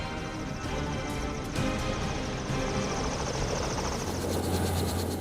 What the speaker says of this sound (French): Il doit réussir à redémarrer l'hélicoptère.